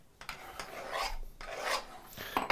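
A steel file rasps across the edge of a card scraper to raise a burr, several steady back-and-forth strokes at close range, each a broad scratchy sweep separated by short pauses.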